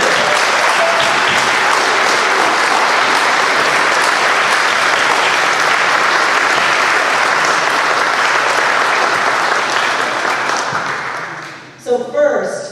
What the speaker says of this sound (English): can we just do a round of applause for all of our students here?